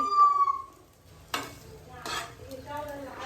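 Noodles heated in a pan at home give short scraping stir strokes and a light sizzle, heard in close bursts after a brief high-pitched tone at the start.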